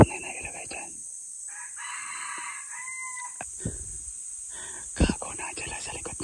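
Red junglefowl (labuyo) crowing from behind bamboo on a hunting spot, a few drawn-out calls at moderate distance, with rustling and faint handling noises around them.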